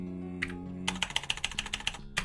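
Close, rapid keystrokes on a computer keyboard, with a single press, a short pause, then a quick run of evenly spaced clicks ending in a final couple of taps.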